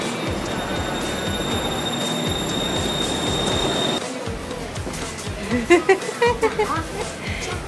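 An electric train rumbles steadily along the rails with rhythmic clacking, its sound shifting partway through, while a voice speaks near the end.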